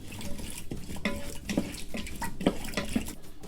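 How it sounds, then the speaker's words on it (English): A spoon swirls quickly through a wet breakfast-bowl mixture in a Ninja Foodi pot, making close, slushy stirring sounds with scattered small knocks against the metal, steady throughout and without speech. "Let's go ahead and give that a quick mix."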